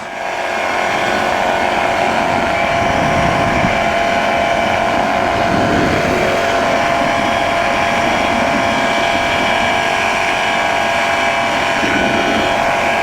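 A light aircraft's engine roars at full takeoff power, a loud, steady drone with a constant buzzing tone that holds unbroken from start to finish, with no voices over it.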